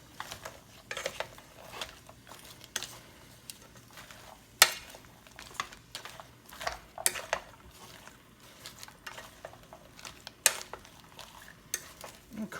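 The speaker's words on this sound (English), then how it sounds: "As this begins to cook, I'm going to add my onions, my celery, and my carrots." Chopped onions, celery and carrots sautéing in a pot for lobster bisque, with a steady soft sizzle broken by repeated scraping stirs and occasional sharp clinks of a utensil against the pot, close and moderately quiet.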